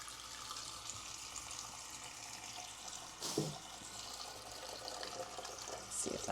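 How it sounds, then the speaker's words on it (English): Water runs from a tap into a cooking pot while a steak dinner is prepared. A soft, steady trickle carries on throughout, with a couple of small clunks of the pot along the way. "just going to put a little bit of water in there"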